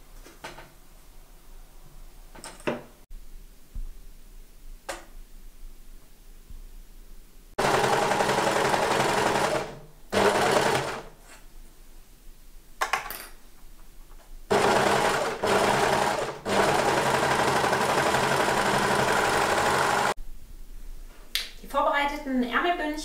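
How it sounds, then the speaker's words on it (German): Electric sewing machine stitching the cuff area of a baby wrap jacket sleeve, running in two loud sustained bursts with short pauses between, plus faint clicks and handling noises before and after. "Gleich nähe ich einmal diese Partie hier unten."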